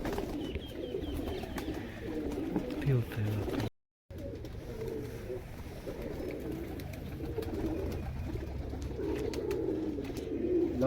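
Breeder and flying pigeons coo steadily on a rooftop, their soft repeated calls layered under a voice talking throughout, with one brief dropout partway through.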